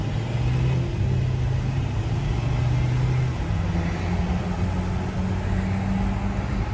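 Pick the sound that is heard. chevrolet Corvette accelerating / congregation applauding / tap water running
chevrolet Corvette accelerating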